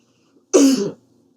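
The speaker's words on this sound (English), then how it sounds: "I apologize for the cough." A single loud, close throat-clearing cough, short and harsh, in an otherwise quiet room.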